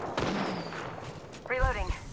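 Gunfire in the Apex Legends battle royale game, a burst of shots mixed with game sounds, followed near the end by a sharper, louder volley with metallic ringing.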